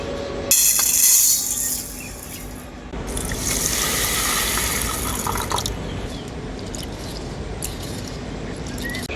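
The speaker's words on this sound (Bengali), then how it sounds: "এখন আমি নামিয়ে নেব আর নামিয়ে এটা খুব ভালো করে ধুয়ে নেব জল পাল্টে পাল্টে" Lentils being washed in a pot, water poured in and swished around, with a burst of running water and then continuous sloshing and dribbling close by.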